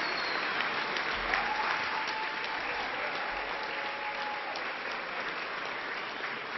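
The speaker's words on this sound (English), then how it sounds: "let's give a big round of applause to Rita Williams" An awards audience applauds for Rita Williams, honoured for a 41-year television career, with dense, continuous clapping that holds at an even, moderately loud level for several seconds.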